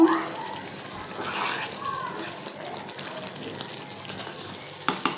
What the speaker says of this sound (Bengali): তো ওইখানে আবার তরকারিগুলো হইতাছে এই জন্য একটু চুলার শব্দ